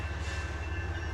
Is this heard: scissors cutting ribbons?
no